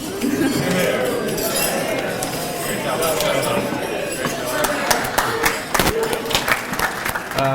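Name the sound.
glasses clinking during a wedding toast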